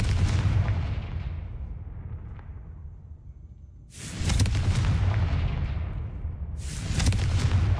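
The Confringo explosive spell in Hogwarts Legacy goes off as deep, booming blasts, one at the start decaying slowly, then two more powerful eruptions a few seconds apart, loud and close with no talk.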